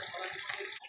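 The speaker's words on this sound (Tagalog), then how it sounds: "Okay, lagyan na po natin ng sabaw." Broth poured into a cooking pot of reddish simmering stew, a steady close splashing stream of liquid lasting under a second before it cuts off abruptly.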